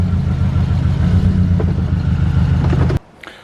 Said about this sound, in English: you just heard the exhaust down the road.